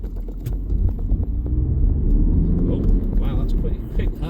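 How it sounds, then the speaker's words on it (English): A Volkswagen Golf 2.0 TDI diesel pulls hard in first gear on a test drive, with a steady low engine rumble heard from inside the car. "Okay, first gear. Oh wow, that's quick."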